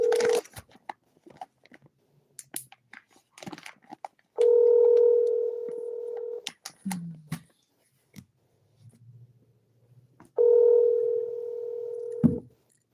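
A telephone call being transferred to a Five Below store produces two long, steady ringback tones several seconds apart, loud and clean over a phone line, with faint handling clicks and rustles in between.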